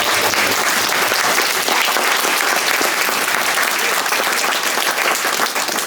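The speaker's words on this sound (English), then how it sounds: "give Patty Rogers and the Royal Maritime Greenwich a round of applause" An audience gives a loud, sustained round of applause for Patty Rogers and the Royal Maritime Greenwich, dense clapping that holds steady throughout, with a few voices faintly underneath.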